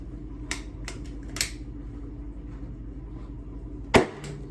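An air-filled balloon held over a lighter flame bursts with a single loud, sharp pop near the end, after a few softer clicks and a quiet background hum.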